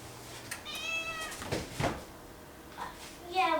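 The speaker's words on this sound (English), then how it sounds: "The cat doesn't really come downstairs unless she knows the dog's not home." A domestic cat meows indoors in a family home, several short drawn-out meows spaced across the moment, close and moderately loud, with people talking around it.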